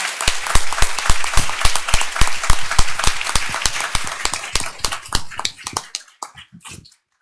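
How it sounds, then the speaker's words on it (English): A board of trustees meeting audience gives a round of applause for honored theater directors, loud sharp clapping that thins out into a few scattered claps before stopping. "Let's give them a round of applause."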